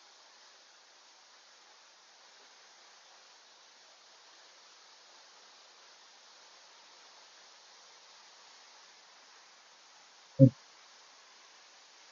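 Samrong Kiat waterfall in Khun Han district, Sisaket, with clear water, flows as a faint, steady, distant rushing hiss on a morning visit, broken once near the end by a single short thump.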